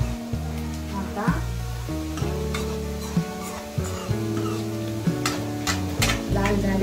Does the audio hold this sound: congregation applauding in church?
no